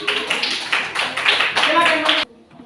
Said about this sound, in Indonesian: mari kita sambut teman-teman dengan tepukan tangan